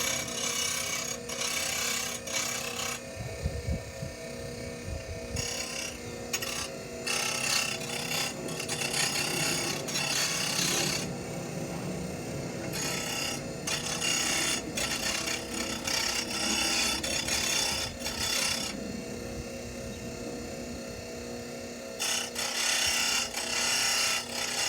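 An 8mm stainless steel rod is ground against a wheel in a continuous rough rasping scrape that pulses in and out in passes, close and moderately loud, with no talk.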